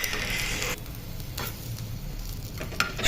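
Bottle gourd leaf rolls frying in mustard oil, a loud close sizzle that drops to a softer hiss, broken by a few brief stirring scrapes.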